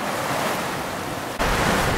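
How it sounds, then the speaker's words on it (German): Steady wind rushing over open water on a sailing voyage from Portugal into the Mediterranean, waves washing below, the gusts buffeting the microphone and swelling louder toward the end. "Der Wind ist wieder da zum Glück"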